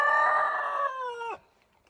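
A rooster in a backyard pen shared with goats gives a single loud, close crow lasting over a second, the drawn-out call dropping away sharply at its end and followed by quiet.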